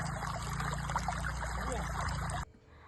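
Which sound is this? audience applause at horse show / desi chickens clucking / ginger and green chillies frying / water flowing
water flowing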